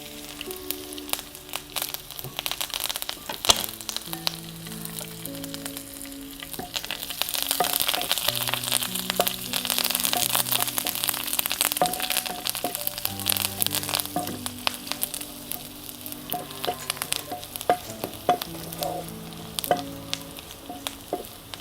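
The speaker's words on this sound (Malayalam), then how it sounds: "നമുക്ക് അതിനകത്തേക്ക് വറ്റൽമുളകും ചെറിയുള്ളിയും കറിവേപ്പിലയും കൂടി ഇട്ട് കൊടുത്ത് താളിച്ച് വെക്കാം." Dried red chillies, shallots and curry leaves fry in hot tempering oil for a Kerala-style dish, a steady close sizzle and crackle with spoon scrapes and stirring knocks, louder in the middle and easing toward the end.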